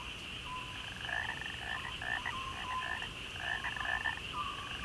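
Chorus of frogs croaking at night, steady layered calls with repeated pulsing notes over a constant high insect-like drone, moderately distant and continuous.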